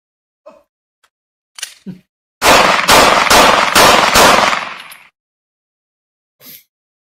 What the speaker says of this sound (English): I'm cocking the weapon and getting into the shooting position.